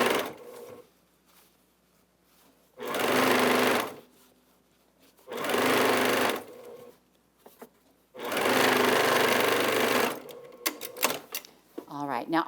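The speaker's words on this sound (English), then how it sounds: "I'm just going to go ahead and keep sewing these together as I go along" A home sewing machine runs in three steady bursts of several seconds each while joining quilt squares, with short pauses between them and a voice speaking briefly near the end.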